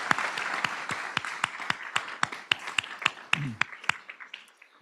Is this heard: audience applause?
yes